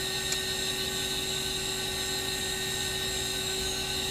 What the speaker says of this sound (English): then I'm going to do the same thing for the right boost pump. I'm going to turn it on, make sure I can hear it